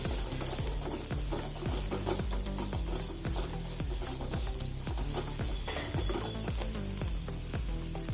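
Ginger, curry leaves and kudampuli (Malabar tamarind) fry in coconut oil in a pan, with a steady sizzle and repeated rhythmic scraping strokes of a spoon stirring, close and constant with no talk.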